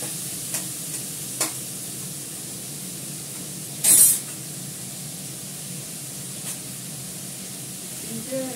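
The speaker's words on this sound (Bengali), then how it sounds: "আমি এর মধ্যে দুটো কাঁচা লঙ্কা দেবো" Homegrown eggplant pieces sizzle steadily in a frying pan as two green chilies go in, a soft hiss broken by a brief louder crackling burst midway.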